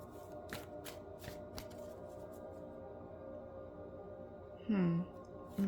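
Tarot cards being shuffled in several quick riffling bursts, close and soft, followed by a short pause and a faint voice.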